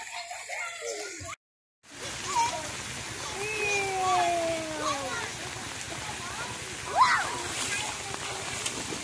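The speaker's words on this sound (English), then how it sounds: "We're swimming now." Water splashing and sloshing as people swim in a pool at a beach resort in Samal, Bataan, steady and close, with children's voices and chatter mixed in throughout.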